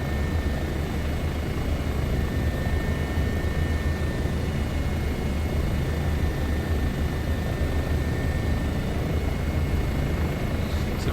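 Bo 105 helicopter in flight in Microsoft Flight Simulator 2024, a steady, dense rotor and turbine drone with low thudding that holds at constant loudness throughout, with no talking.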